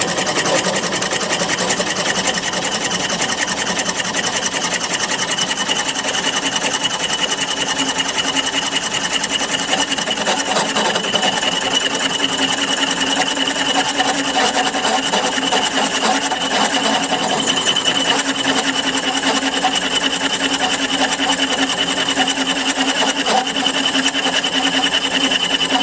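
A circle cutter bores through wood to cut out a round wooden clock part, a steady, loud, continuous whirring drone with no pauses.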